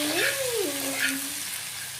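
Chili chicken masala gravy with Kashmiri red chili powder is stirred in a pan, giving a steady close sizzle with a soft scraping swirl and a brief rising squeal near the start.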